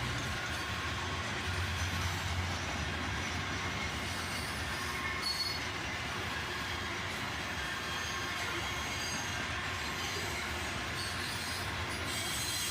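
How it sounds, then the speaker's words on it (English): A long freight train of grain cars, including covered hoppers, rolls steadily past, its wheels grinding and squealing continuously at close range with no talk. "At first, this appeared to be a unit grain train"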